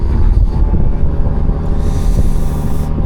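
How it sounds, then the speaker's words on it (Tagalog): Strong wind buffets the microphone on the top deck of a ferry crossing from the Visayas to Luzon, a loud, continuous low rumble with gusty swells and no one speaking. "Oh, sarap ng hangin."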